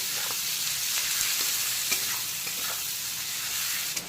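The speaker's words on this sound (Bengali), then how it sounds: "পেঁয়াজ কুচিটাকে ভাজা ভাজা করে নেব" Chopped onions frying in hot oil for a prawn and ridge gourd curry, a steady close sizzle broken by several sharp scrapes and knocks of a spatula stirring the pan.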